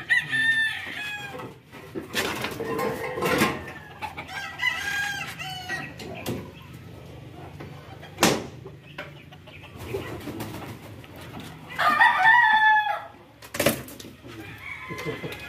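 Chickens clucking nearby with a rooster crowing in bursts, scattered sharp knocks and rustling, and brief voices mixed in, in Dagupan City, Pangasinan.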